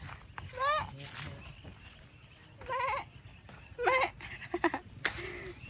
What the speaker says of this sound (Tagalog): Ay, kambing. Me, me.